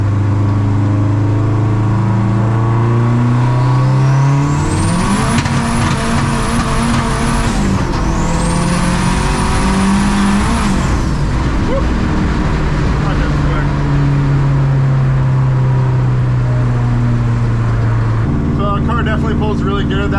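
Turbocharged Volvo with an external wastegate pulling hard through third and then fourth gear, loud close engine drone rising in pitch with a high whistling turbo spool, a pause at the gear change, then settling into a steady cruise.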